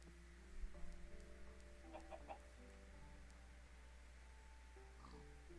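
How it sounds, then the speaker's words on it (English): A Minecraft chicken clucks faintly in the game, a few short soft clucks in the first few seconds over a steady low electronic hum. "He's a chicken."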